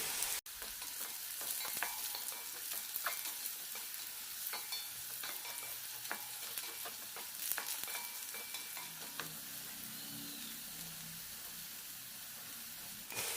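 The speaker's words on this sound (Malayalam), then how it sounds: "ചെറിയ രണ്ട് പീസ് പുളിയും നന്നായി വഴറ്റാം കൂടെ തന്നെ രണ്ട് കറിവേപ്പിലയും" Tamarind pieces and curry leaves sauté in a pan of oil for a garlic chutney, with a steady close sizzle and frequent stirring scrapes and clicks running throughout, no voices.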